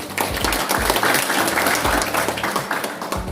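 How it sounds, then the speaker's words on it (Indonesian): An audience at a youth organization cadre training event in Bogor Regency applauds, a steady wash of many hands clapping close and loud throughout, with a few low thumps underneath. "Tepuk tangan boleh."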